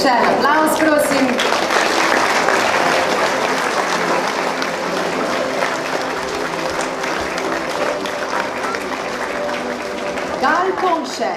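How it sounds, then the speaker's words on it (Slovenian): Audience applause fills a school year-end ceremony, sustained and dense from start to finish, with a voice speaking briefly over the clapping at the opening and again near the end. "Še en aplavz, prosim."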